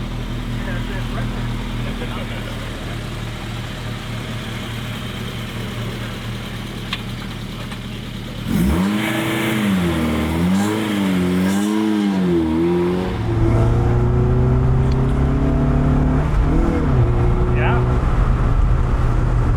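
Engine of a 1980s Honda CRX Si heard from inside while driving, a steady low drone that rises and falls with revs and gear changes, with people talking over it throughout.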